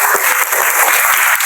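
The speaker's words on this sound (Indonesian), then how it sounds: "kasih aplaus dulu untuk teman" Classroom applause for a classmate from a group of eighth-grade students, a dense steady clatter of many hands clapping at once, loud and continuous throughout with no talk.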